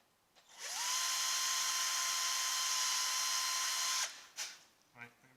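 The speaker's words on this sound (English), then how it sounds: "I need to drill that through as well" A power drill whines loudly and steadily for about three seconds as it drills through part of a tripod, then stops, followed by a couple of brief clicks and a short voice.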